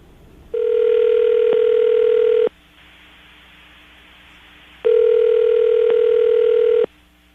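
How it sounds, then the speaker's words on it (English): A telephone dial tone sounds loudly for about two seconds, then a quieter stretch of line hiss, then the dial tone returns for another two seconds, all heard on a radio show with no talking. "we're going to dial the phone number right now, get her on the phone"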